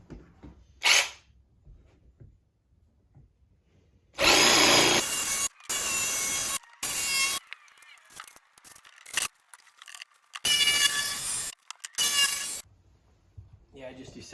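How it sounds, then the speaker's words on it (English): A power tool cuts an entryway into the lid of a large stainless steel litter box in loud bursts separated by short pauses, with brief scraping sounds in the gaps and a few short spoken remarks. "let's cut the entryway on this lid"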